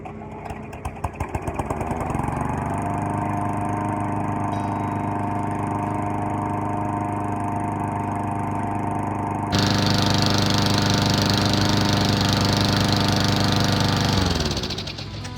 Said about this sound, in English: we're going to go ahead and pull this cord and see if it runs and dies